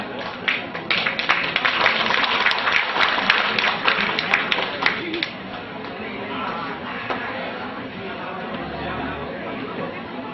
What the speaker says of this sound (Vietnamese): hãy cho một tràng pháo tay thật to